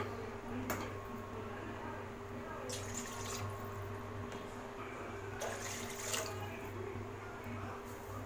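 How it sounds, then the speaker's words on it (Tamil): Water pours steadily into the same kadai used to roast cashews, raisins and semolina for rava kesari, about three cups' worth, with a continuous rushing, splashing flow throughout. "3 கப் அளவுக்கு தண்ணி சேர்த்துக்கோங்க."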